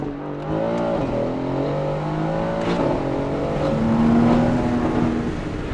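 A Mercedes-AMG GT S with a Valvetronic exhaust and free-flow downpipes runs in race mode, its engine droning loudly and steadily with rising and falling revs, close by.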